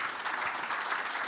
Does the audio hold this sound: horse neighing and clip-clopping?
no